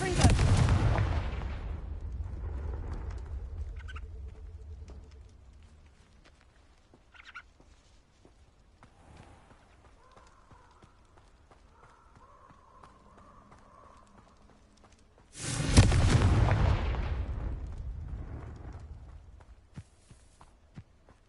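Confringo explosive spell cast in the Hogwarts Legacy video game: two loud booms about fifteen seconds apart, each bursting suddenly and rumbling away over several seconds, with faint game ambience between.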